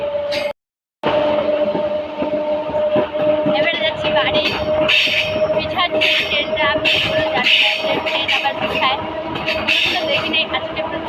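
A train rumbles and rattles along steadily as it moves backward, while several people talk nearby throughout; a brief silent gap occurs near the start.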